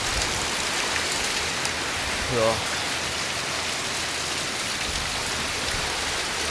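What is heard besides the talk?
heavy rain falling in a village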